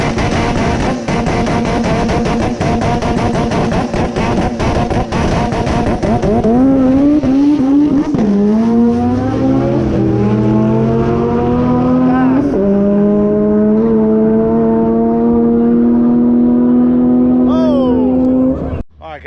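A rail dragster at Rocky Mountain Race Week makes a loud race pass, starting with a rough, crackling idle before the engine screams up through rising, shifting tones and holds a steady, roaring pull to the end.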